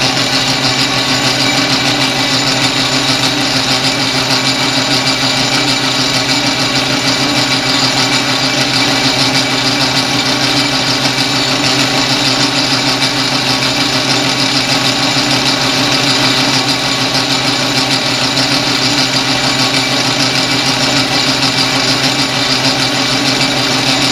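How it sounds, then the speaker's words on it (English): A small drill spins a bit with long flutes into metal for a mini propane burner, a loud unbroken mechanical whir running steadily for over twenty seconds without pause. "Let's go a little faster with this little drill."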